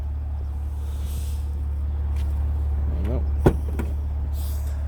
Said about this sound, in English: So boot button, fully electric, can open with the key.